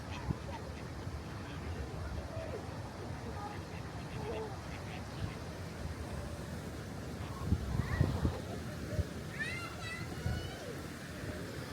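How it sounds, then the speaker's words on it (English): A couple of mallard ducks quacking faintly at a quiet holiday park, scattered soft calls over low outdoor background noise, a few louder bursts toward the end. "A couple of mallard ducks there."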